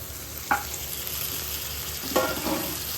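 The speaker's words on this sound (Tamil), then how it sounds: "வெங்காயம் வந்து நல்லா இந்த ஸ்டேஜ் வதங்கினதும் தக்காளி ஆட் பண்ணிக்கலாம்" Onions and tomatoes sautéing in a pan for a Tamil chicken gravy, a steady low sizzle with two sharp spatula clinks and stirring scrapes at intervals, with no talking.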